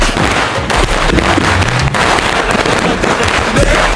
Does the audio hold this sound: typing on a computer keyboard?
no